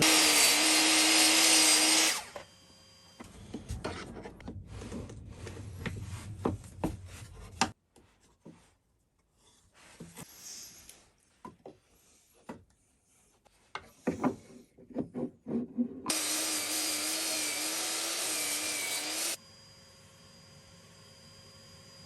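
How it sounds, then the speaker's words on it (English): A miter saw set to an angle cuts wood for a handmade low-profile hand plane, with two loud whining cuts, one at the start and one near the end, and quiet workshop handling sounds between them. "We just want to set the miter saw to this angle"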